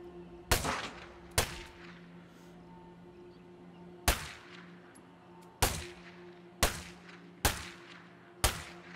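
Gunshots aimed at zombies in State of Decay ring out singly, about seven sharp, loud cracks at irregular intervals over a low steady hum, with no voices.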